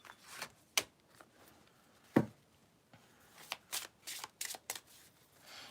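Oracle cards being shuffled close by, with a couple of sharp riffles early on followed by a quick run of softer card slaps and flicks, no voice over them.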